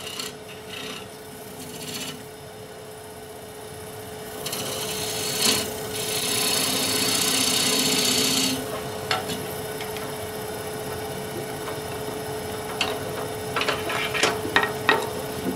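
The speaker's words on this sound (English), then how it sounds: "making my tenon for the jaws." A wooden bowl tenon is cut on a wood lathe: a steady motor hum runs beneath a tool scraping and rasping against spinning wood, swelling into a loud continuous cut midway, then trailing into short scratchy touches.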